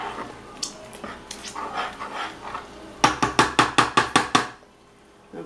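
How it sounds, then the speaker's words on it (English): Shrimp and their juices are stirred into a cheese sauce in a pan, with soft scraping and then a quick series of about eight rhythmic clacking strokes of a utensil against the pan, close and fairly loud. "Give it a stir so it's all incorporated."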